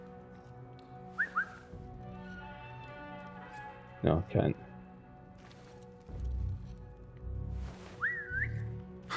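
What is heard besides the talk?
player character whistling to attract a guard, video game Assassin's Creed Mirage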